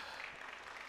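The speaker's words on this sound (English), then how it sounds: "A round of applause for them once more." An audience at a business panel event on investment in Uganda applauds, a dense, even wash of clapping from many hands, steady and moderately loud.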